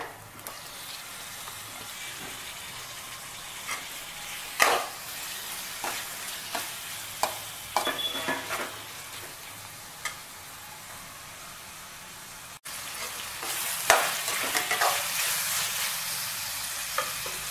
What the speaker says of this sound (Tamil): இஞ்சி பூண்டோட பச்சை வாசனை போயிடுச்சு இப்போ தக்காளி சேர்த்துடலாம் ஒரு நாலு தக்காளி சேர்த்துக்கோங்க